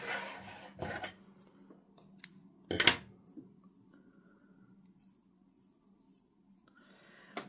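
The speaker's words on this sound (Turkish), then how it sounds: "Bir zincir yaptıktan sonra da ipi keselim." Scissors snip through crochet yarn while a rose hair tie is being finished, one crisp close cut standing out among soft rubbing and handling noises in an otherwise quiet room.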